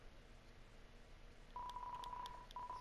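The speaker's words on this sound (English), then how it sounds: "It's landline phone, but you already have a cell phone." A landline phone in the Deltarune video game is dialed, a series of short electronic keypad tones beeping in quick succession after a moment of quiet room ambience.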